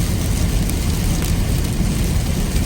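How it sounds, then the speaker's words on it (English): Steady rain drums over the cab of a big dually pickup truck hauling a feeder while driving downhill on a slippery road, a dense continuous wash of noise with low road rumble underneath. "this rain's got my attention right now"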